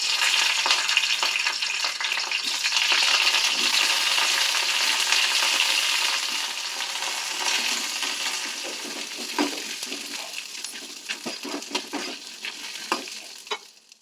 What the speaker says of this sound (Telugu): దోశల్లోకి చట్నీ కోసం వేరుశనగలు వేగించుకుంటున్నాను